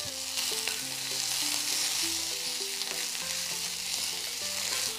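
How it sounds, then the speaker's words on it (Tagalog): Onions sauté in about a tablespoon of hot oil in a pan, giving a steady, bright sizzle throughout, with soft music playing underneath. "Feel mo naman na mainit na, igisa na natin tong sibuyas."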